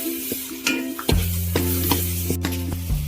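Tomatoes frying with masala for goat head curry, a close, loud sizzle broken by rhythmic stirring scrapes and clanks, with a steady low hum running underneath.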